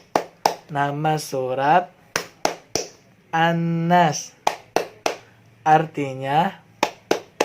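Sharp rhythmic hand claps keep a steady beat alongside a woman's sung chant of Surah An-Nas, with claps falling in regular clusters between and during the sung phrases, close and clear.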